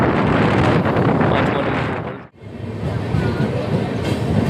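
Intercity SF Express train 22959 rolling into Chandoriya station near Ahmedabad, a loud steady rumble of wheels and carriage noise with wind buffeting, briefly dropping out midway before resuming.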